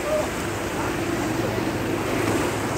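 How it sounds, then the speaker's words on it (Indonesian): Overflowing river floodwater rushes through the dock area of Palabuhanratu harbour after heavy rain, a steady, loud broadband roar of churning water mixed with wind buffeting, continuous throughout with no clear voices. "Nih, sungainya meluap."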